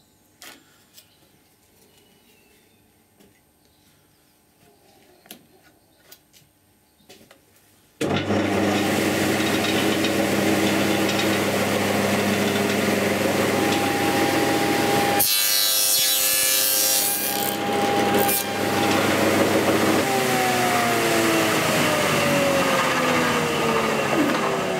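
A table saw cuts box joints in a clamped wooden board, starting with a loud, steady whining roar after quiet handling sounds and continuing as the blade bites through the wood.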